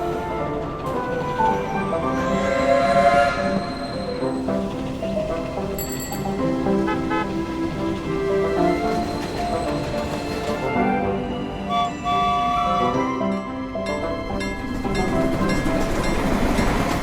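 A passenger train runs steadily on rails with a continuous rumble and faint rhythmic clatter, heard from inside a carriage, with squealing tones rising and falling throughout.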